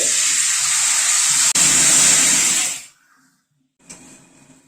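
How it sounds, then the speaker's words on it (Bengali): Hot water pours loudly and close into frying spice masala for a Bengali fish curry, a broad rushing hiss that runs for about three seconds. It cuts off into a brief silence, and a fainter sizzle follows. "এবার গরম জল দিয়ে দিচ্ছি।"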